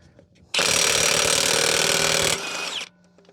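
A Ridgid high-torque impact wrench hammers loudly on a lug nut in one sustained burst of about two seconds, then winds down and stops.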